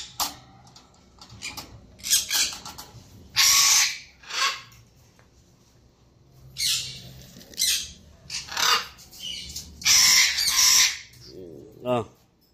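A pet parrot squawks in repeated loud, harsh bursts at close range, with short pauses between calls and a rising whistle near the end, while a person speaks softly in the background.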